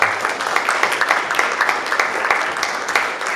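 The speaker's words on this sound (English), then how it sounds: "let's give ourselves a round of applause for that." Audience applause at a governor's community conversation in Morgantown, a moderately loud, continuous patter of many hands clapping at once, steady throughout with no talking over it.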